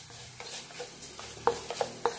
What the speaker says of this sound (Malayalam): അത് ഈ ചൂട് എണ്ണയിൽ കിടന്നൊന്ന് മൂത്ത് വന്നാൽ മതി.